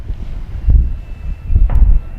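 Gusty wind buffets the microphone outdoors at a flying field during a radio-controlled Corsair model plane flight, rising in two strong rumbling bursts over a faint steady whine.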